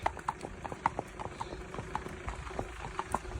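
Horses' hooves clip-clop on a road during a group hack, steady irregular knocks from several animals at close range, fairly faint over a low background hum.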